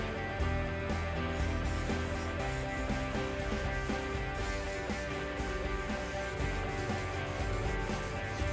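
A rag soaks European oak and white oak boards with iron acetate solution, giving a steady, continuous close-up rubbing and scrubbing over a faint background hum.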